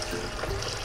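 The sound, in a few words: water being poured into a pot for beef pulao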